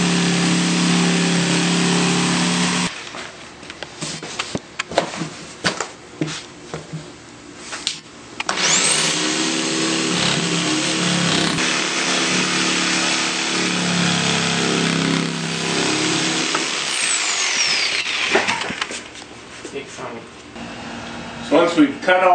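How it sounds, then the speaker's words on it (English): A power saw cuts an onyx shower panel in a garage, producing a loud, harsh grinding whine in two long bursts, with a quieter, patchier stretch of noise between them. "go out in the garage and then cut the panel and bring it on in"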